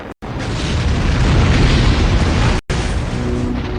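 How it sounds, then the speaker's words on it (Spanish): A massive, deep explosive roar of an asteroid airburst in the atmosphere, loud and sustained, with heavy low rumble filling the sound for seconds, briefly cut off twice. "Por eso estas explosiones atmosféricas también son muy peligrosas."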